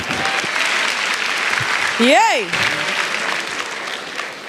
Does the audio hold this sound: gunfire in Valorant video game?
no